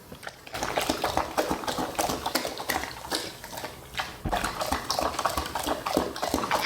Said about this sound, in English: A dog drinking water is pretty comforting.